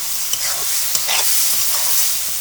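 Shrimp cooked down with spices in a pan, a close, steady sizzle with a few quick scraping stirs of a spoon, no voices.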